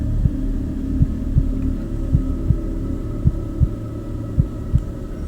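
Steady heartbeat thumps, about eight evenly spaced low beats over a constant dull hum, no voices.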